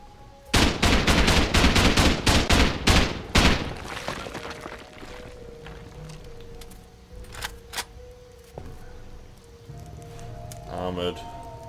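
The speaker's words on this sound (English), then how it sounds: "I'm just gonna use explosive ammo in this part." Rapid bursts of explosive ammo gunfire in the survival video game Rust during a raid, loud close volleys for about three seconds, then quieter scattered impacts and game sounds.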